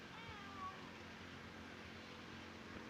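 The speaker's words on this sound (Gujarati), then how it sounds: "મીંદડી પૂગે આવી" A faint cat meow rises briefly over a low, steady background hum, distant and quiet.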